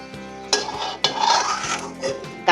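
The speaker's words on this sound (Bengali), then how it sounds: "তার জন্য প্রথমে তেলের মধ্যে 3টে শুকনো মরিচ ভেজে নেব" Three dried red chillies fry in oil in a pan for mustard greens, a close, sharp sizzle broken by scraping and stirring strokes of a utensil.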